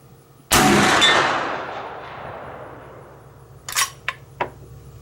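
An 1876 Winchester rifle fired at a steel plate at 100 yards: one sharp, loud report with a long, rolling decay, followed a few seconds later by several quieter, crisp clacks.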